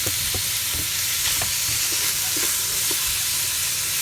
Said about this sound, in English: So now we're going to add the peppers back in.